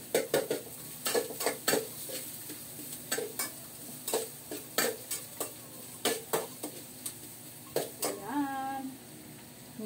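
Sopas ingredients sautéing in a pan until medium brown, with repeated sharp clinks of a utensil stirring against the pot over a steady sizzle, close and fairly loud.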